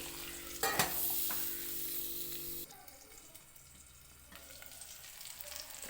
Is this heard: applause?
no